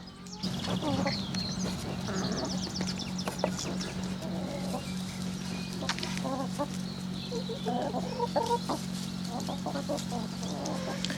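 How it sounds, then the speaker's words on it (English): Chickens cluck and squawk in scattered bursts throughout a farmyard, with a steady low hum underneath and occasional faint voices in the background. "the chickens are staying in one place"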